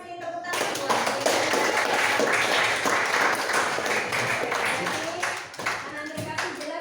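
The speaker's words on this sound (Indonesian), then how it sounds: "Tepuk tangan buat" An audience at a Catholic church education session bursts into applause, a dense burst of clapping that holds for about five seconds before fading, with a voice speaking near the end.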